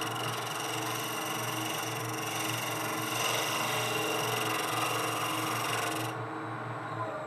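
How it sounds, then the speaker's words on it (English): Steady whir of a spinning wood lathe as a bowl gouge takes light shearing cuts to clean glue spatter off a transitional vessel, a continuous hum with a scraping hiss that drops off abruptly near the end. "clean up some of this glue splatter with a couple of very light cuts"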